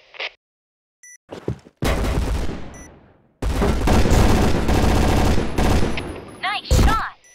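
Rapid bursts of automatic gunfire from the Point Blank shooting game, loud and dense, with several long sustained volleys broken by short gaps and a few sharper single shots near the end.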